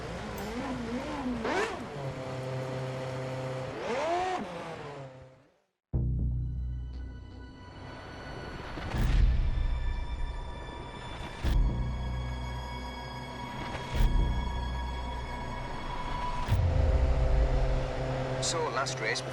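A Formula 1 car from the F1 2010 racing video game is started and driven at Sepang in Malaysia. Its whining engine rises and falls through gear changes, sustained and prominent, with a brief dropout near the start and someone talking over it.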